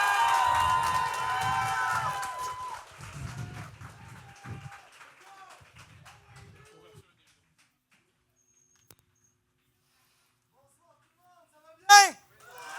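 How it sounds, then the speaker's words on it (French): A crowd at a student talent show cheers, shouts and applauds, loud at first and then gradually fading into near silence, followed by one sharp, loud burst near the end. "Faites un tonnerre d'applaudissements pour André Lucas, s'il vous plaît."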